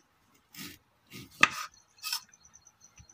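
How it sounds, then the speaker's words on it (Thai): A knife slicing washed kaffir limes into rounds on a cutting board gives four short, crisp cuts spaced about half a second apart, close and fairly quiet, with no talking. "จากนั้นก็นำมาหั่นเป็นแว่นๆค่ะ"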